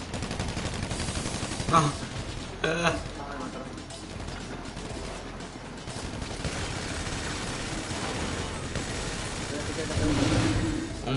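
Rapid gunfire in the video game GTA 5, bursts of automatic shots in short clusters with a few louder reports, mixed with game noise while a player speaks briefly.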